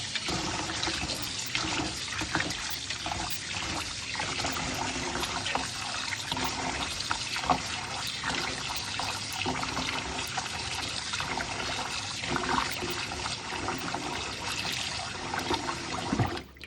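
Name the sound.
washing rice in water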